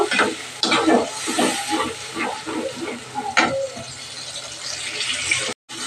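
Cumin and coriander powder soaked in a little water, stirred and fried into a paste in a pan, with scraping strokes and a soft sizzle in bursts, near and moderately loud, ending in a brief silence.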